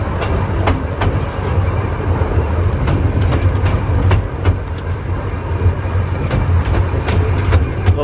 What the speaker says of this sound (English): The sounds of a train, hey! Clunking along the tracks.